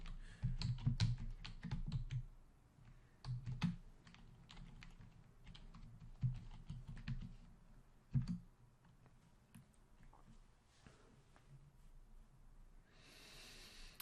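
Someone types on a Chromebook keyboard to sign in: bursts of quick, close key clicks with pauses between them, soft breathing, and a brief hiss at the very end.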